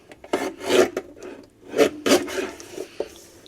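White cardstock being trimmed for an interactive flatbook, giving a series of close, short scraping cuts in a few quick bursts with brief pauses between them.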